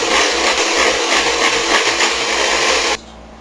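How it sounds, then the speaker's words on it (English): A blender whirs loudly and steadily as it mixes an egg batter with a pinch of salt, running continuously for about three seconds before cutting off abruptly. "You take a blender."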